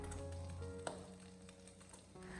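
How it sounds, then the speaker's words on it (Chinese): Pork mince with oyster sauce is stir-fried in a wok, a soft sizzle under a low steady hum, with a few faint clinks and scrapes of a spatula. "然后再继续的将其翻炒一下，将其翻炒均匀，把蚝油的酱香味给它翻炒出来"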